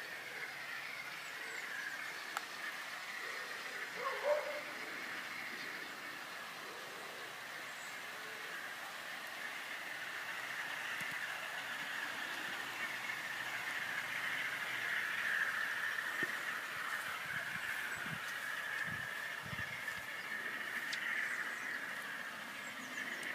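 An OO gauge model train running on a garden railway, heard as a faint, steady wheel hum and squeal with light clicks over the rails, against quiet outdoor background.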